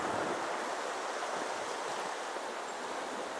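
A creek runs high after rain, giving a steady, close, broadband rush of flowing water that holds constant with no voices.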